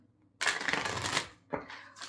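A burst of tarot card shuffling rattles up close, a riffle lasting under a second followed by a shorter second flutter.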